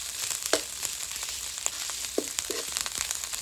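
Thinly sliced pork belly stir-frying in a hot pan, a steady close sizzle broken by a few sharp clatters of the utensil.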